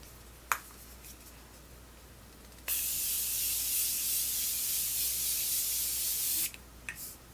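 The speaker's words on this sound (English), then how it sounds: "I take my setting spray and I'm going to use my Morphe" A continuous fine spray of Morphe Continuous Setting Mist onto a face hisses steadily for about four seconds, close and even, in a quiet room with faint clicks before and after.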